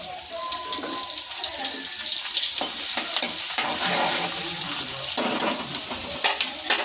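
Chopped onion sizzles in hot oil with cumin seeds and curry leaves in a home kitchen pan. A steady crackling fry runs throughout, with scraping and clinking stirring strokes scattered on top and no talk.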